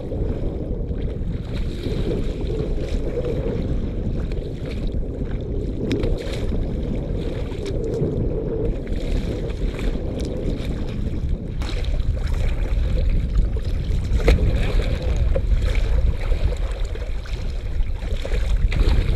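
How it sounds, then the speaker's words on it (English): A boat pounds through big waves, a steady loud rumble of engine and water with heavy wind buffeting throughout, no talking. "Big waves."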